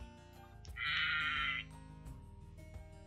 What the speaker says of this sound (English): Let's go ahead and stroke the lamb's feet to hear her baa.